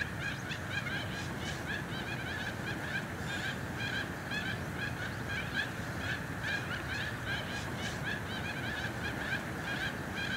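A flock of male mandarin ducks calls through spring breeding season in a wild valley, a steady chorus of repeated honking and chattering cries over a dense, continuous background wash.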